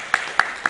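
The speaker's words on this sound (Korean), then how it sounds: "저 뒤에 한번 박수해 주세요." Three sharp, evenly spaced hand claps ring out close by during a Sunday church worship service, each a brief, isolated crack.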